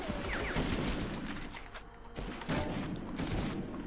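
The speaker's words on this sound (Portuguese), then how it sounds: "Os gajos estão-me a atirar, não?" Gunfire from the PlayStation 1 shooter Medal of Honor, mission 9: scattered sharp shots and bursts at moderate level, mixed with mechanical clanks and game ambience, with no talk over it.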